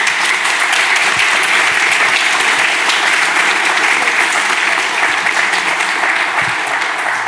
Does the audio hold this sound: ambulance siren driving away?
no